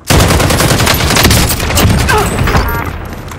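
Rapid video game gunfire crackles in a dense, loud burst from start to finish, with booming low impacts underneath and faint voices in the mix.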